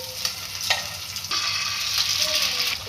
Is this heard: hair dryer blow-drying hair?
no